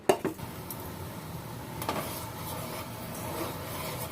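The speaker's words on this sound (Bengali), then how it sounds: "এবার এটা আমি ময়দা দিয়ে রুটির মতো বেলে নেব" Quiet, soft rubbing and scraping as maida dough is rolled out flat like a roti, with a couple of light knocks near the start and a faint, steady background.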